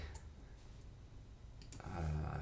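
Keyboard keys clicking in a short burst of typing while logging into a WordPress admin backend; the taps are light and close, with a louder stretch near the end.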